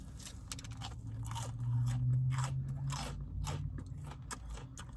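Crunchy bites and chewing of extra-fried Dave's Hot Chicken fried chicken, close and steady, with a series of crisp crackling bites over a low background hum and no talk.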